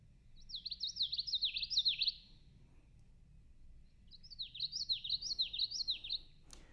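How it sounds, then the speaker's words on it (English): A common yellowthroat warbler sings two bouts of quick, rolling, repeated phrases, bright and clear, separated by a short pause against a quiet background. "Common yellow throat, which is witchity, witchity, witchity, witchity."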